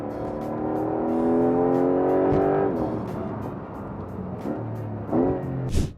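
A Porsche 911 GTS hybrid pulls away hard, its engine note rising steadily for a couple of seconds before easing off, with a few shifts and a closing burst, heard close and loud with no talk.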